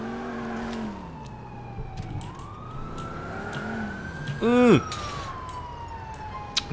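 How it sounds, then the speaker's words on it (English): An ambulance siren from the GTA IV LCPDFR police mod wails and sweeps in pitch, moderately loud under engine and traffic noise, with a brief loud burst near the end and a short vocal murmur. "Fucking ambulance."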